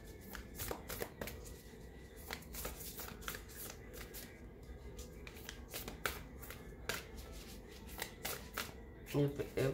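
A deck of cards is shuffled up close in quick, repeated riffling bursts of crisp flicks, with a voice talking at times underneath.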